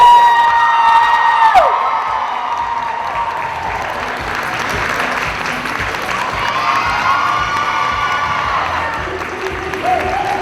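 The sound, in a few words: audience applause and cheering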